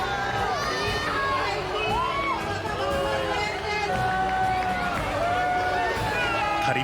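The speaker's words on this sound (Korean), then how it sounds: "다시 태양이 빼꼼히 나타날 때 반대편에 다이아몬드 반지가 생겨나고 사람들의 탄성이 쏟아진다" Crowd of spectators at a total solar eclipse in Mexico cheering and exclaiming together, a dense, steady wall of overlapping shouts and excited voices with rising whoops, sustained close and loud throughout.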